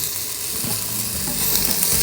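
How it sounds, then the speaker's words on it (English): Onions, squash and garlic sautéing in an Instant Pot for risotto, giving a steady, even sizzle and hiss that stays close and constant through the short stretch, with no one speaking. "And let that saute for another 5 or 10 minutes until your squash gets browned on both sides"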